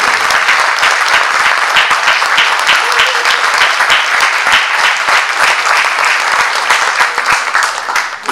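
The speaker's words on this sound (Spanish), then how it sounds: "Yo quiero un aplauso para los jóvenes." Loud, sustained applause from an audience cheering for young people at a TV series presentation, dense continuous clapping throughout, close and full.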